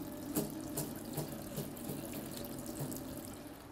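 A head of Chinese cabbage rinsed under a running kitchen tap, a continuous splashing water stream into a sink with small irregular knocks and drips, fairly quiet and close, no speech.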